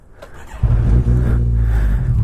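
Heard from inside a vehicle cruising on a highway, an engine surges into a hard pull, its low drone jumping suddenly and then holding a loud steady roar.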